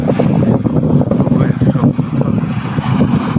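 Sea surf at the shore, a heavy low rumble of waves mixed with strong wind buffeting the microphone, loud and continuous.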